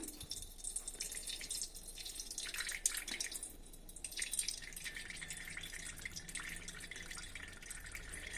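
Homemade hair oil made with fenugreek seeds runs through a sieve in a steady trickle, with soft dripping and pattering sounds close by that go on the whole time, and no talking.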